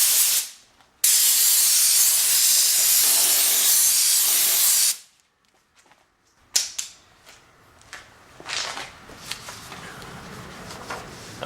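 An aerosol can of SEM bumper paint sprays a light first coat onto 1986 Mustang GT headlight buckets, making a loud, sustained hiss that is followed by short bursts and faint handling noises.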